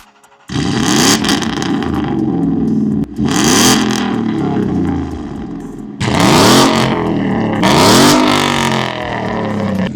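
A ProWeld vehicle engine fires up and revs hard, heard close at the exhaust, with loud repeated rising and falling revving bursts in three waves.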